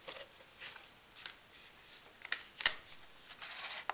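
A small stiff card being folded and creased by hand for a light-up LED card, quiet papery scrapes and crinkles with a couple of sharper snaps, no talk.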